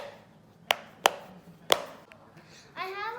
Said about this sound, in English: It has really good, nice popping sounds.